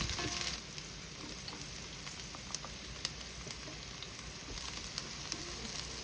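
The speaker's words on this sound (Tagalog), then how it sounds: "ay gisa na natin dito yung ating chopped onion at saka ng minced garlic for a few seconds" Chopped onion and minced garlic sizzle in hot cooking oil for pancit canton guisado, a steady close frying hiss with a few stirring clicks and no voices.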